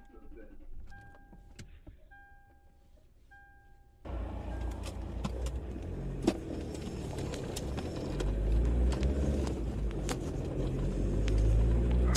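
A car is entered and started: quiet tones and faint clicks give way to a sudden steady engine rumble that swells, with voices talking over it.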